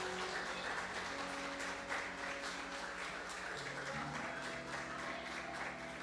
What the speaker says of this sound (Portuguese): já vai aplaudindo ao Senhor